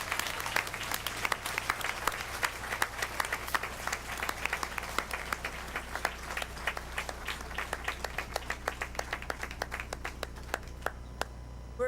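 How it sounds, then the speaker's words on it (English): An audience gives a steady round of applause for school salutatorians at a Milwaukee school board meeting. Many hands clap at moderate distance, continuing for the whole stretch and thinning toward the end. "Let's have a round of applause for all our salutatorians"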